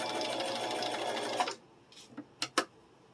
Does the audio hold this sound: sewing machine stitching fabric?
yes